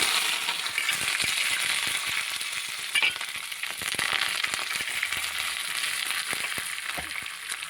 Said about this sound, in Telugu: ఆయిల్ వేసాను, కొద్దిగా మినపప్పు వేసుకుందాము, కొద్దిగా జీలకర్ర, కొంచెం ఆవాలు